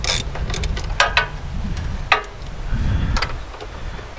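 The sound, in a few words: small ratchet wrench clicking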